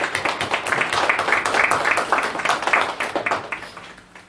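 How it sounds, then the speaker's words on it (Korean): A lecture audience gathered for a book-launch talk gives dense, continuous applause, many hands clapping at once before the sound gradually thins toward the end. "박수 부탁드릴게요."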